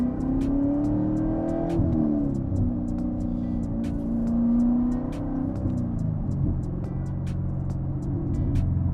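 A car drives along early in the morning with its engine already warmed up, a steady close interior hum that rises and falls gently with the throttle, and no voices over it.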